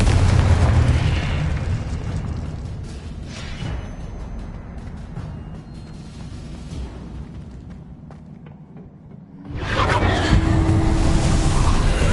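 A Confringo fire spell from Hogwarts Legacy on PlayStation 5 erupts in a loud, rumbling blast that fades over several seconds, followed by a second burst of roaring fire and debris near the end.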